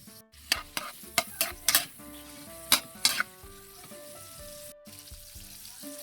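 Garlic, onion and tomato sauté in a pan for a mung bean dish, with a low sizzle under a series of sharp scraping stirs and clanks of the utensil.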